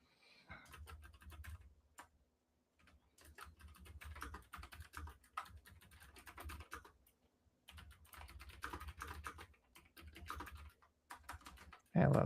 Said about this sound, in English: I'm one of those people that loves the keys that go clickety clack